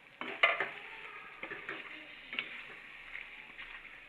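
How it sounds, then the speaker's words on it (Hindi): Spices for biryani fry in a pot: a steady soft sizzle runs throughout, with light stirring scrapes and occasional clinks. "अब इसे 2 मिनट के लिए भूनेंगे, फ्राई करेंगे।"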